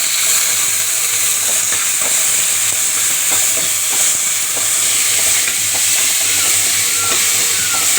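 Shallots frying in a hot pan with garlic, a steady loud sizzle and hiss running throughout, broken by light scraping as they are stirred, no voices.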